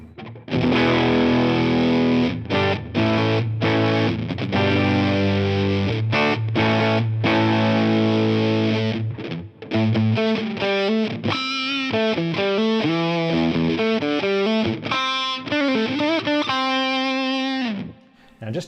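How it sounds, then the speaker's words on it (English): Electric guitar driven through a Big Muff–style triangle fuzz into a Mesa Boogie amp model with a little plate reverb, playing loud, thick distorted chords with short breaks, then a sustained single-note melodic line. "triangle fuzz, which is based on a big muff here, running all the way through to a standardly mixed mixer function"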